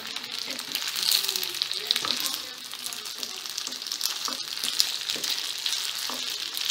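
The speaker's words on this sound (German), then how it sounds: "die andere Seite muss ja auch noch gebraten werden" A noodle pan dish fries in a skillet, giving a steady close hiss and crackle of sizzling oil with occasional scraping stirs, uninterrupted by talk.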